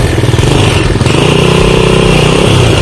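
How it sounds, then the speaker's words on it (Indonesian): Honda Supra motorcycle engine started on its electric starter, catching at once and running loud and close with a steady throbbing idle that stays even to the end. "Coba kita starter ya. Wah, starternya langsung jeng"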